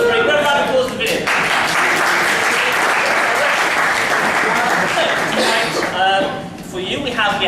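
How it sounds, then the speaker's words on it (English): A crowd at a student improv comedy show in Nottingham claps in a loud, sustained burst of applause that fades out, with a person speaking before and after it. "Round of applause for the video."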